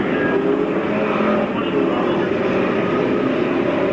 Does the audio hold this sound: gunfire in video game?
no